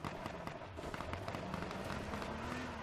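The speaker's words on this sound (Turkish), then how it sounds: "Şu an oralarda patlamalar, çatlamalar mevcut." Rapid crackling bursts and pops from video game explosions rattle continuously, dense and fairly faint.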